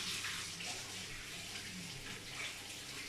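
Hands being rinsed under a running kitchen tap while cooking a pork roast, a steady close hiss of flowing water with slight splashing variation throughout.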